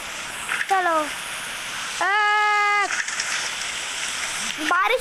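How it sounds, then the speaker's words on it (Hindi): Rain falls in a desert within the motorbike video game Riding Extreme 3D, a steady hiss broken by engine revs that rise and fall and a long held tone. "बारिश हो रही है गाइस डेजर्ट के अंदर।"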